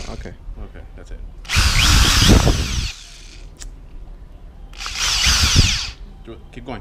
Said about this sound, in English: Some drilling action.